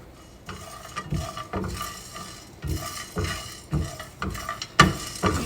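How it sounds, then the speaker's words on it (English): Whole spices toast in a dry pan while a utensil stirs and scrapes them, making repeated close clattering scrapes in an uneven rhythm with a faint sizzle underneath. "To bring fragrance into these natural spices, we are just going to toast them a little bit, just a little bit."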